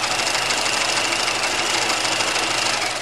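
A sewing machine stitches along a pajama pant leg seam, a steady, dense mechanical whir running loud and close the whole time with no talking.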